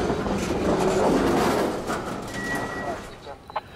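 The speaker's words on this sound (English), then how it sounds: "David was backing the train in" Freight train backing slowly into a lumber wholesaler's siding in an industrial park, a broad rumble of rolling cars with a brief squealing tone, easing off and quieting toward the end, with a few light clanks.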